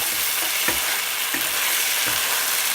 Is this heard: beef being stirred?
yes